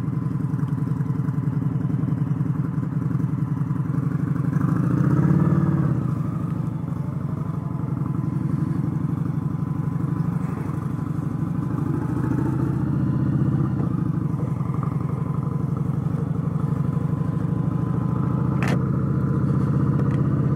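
An Indian Scout Sixty motorcycle rides along the road on an early-morning commute, its engine a steady, loud drone throughout with a brief surge in the middle and no talking.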